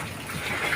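Water splashes steadily into a cooking pan holding a canned sauce dish seasoned with black pepper, a short, close, continuous pour with no break.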